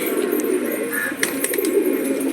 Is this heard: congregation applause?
no